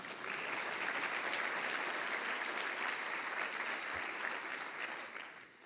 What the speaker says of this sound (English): So please give Penny another round of applause.